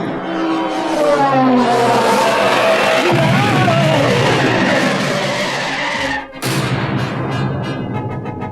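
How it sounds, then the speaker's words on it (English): Star Wars audio drama effect of the Millennium Falcon's braking thrusters firing hard: a loud, continuous roaring rush lasting several seconds, briefly cutting out near the end before surging back. "when we get to the Falcon, I'm gonna have to hit the braking thrusters awfully hard"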